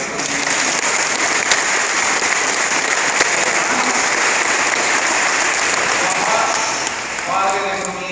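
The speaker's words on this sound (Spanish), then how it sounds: "Un aplauso para esta niña" Loud, dense applause from a church congregation for a girl at her first communion, filling the space steadily for several seconds before easing slightly, with faint tonal sounds rising near the end.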